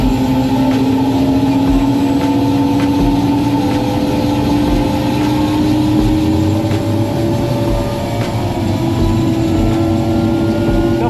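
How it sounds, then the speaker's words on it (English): A tour helicopter's turbine engine spools up from a start and settles into a steady idle, a loud continuous whine rising slowly in pitch over a constant roar, close and alone with no talking. "Adding the fuel, and I'll bring it to an idle here."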